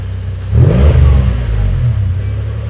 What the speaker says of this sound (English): Start and rev it. Beautiful. Rev it.